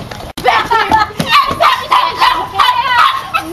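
A dog barks and yips repeatedly in quick bursts, close and loud, with a person's voice speaking over the barking throughout.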